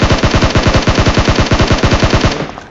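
Loud, continuous automatic fire from a shotgun and SCAR-L in a battle-royale video game, a rapid rattling burst of roughly nine shots per second that stops abruptly after about two seconds.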